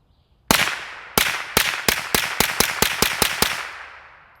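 Twelve sharp .22 pistol shots from a Retay RXP22 fitted with a red dot sight and firing CCI tuna can 22XL rounds, a slow opening pair then a quicker steady string, loud and close with short ringing tails.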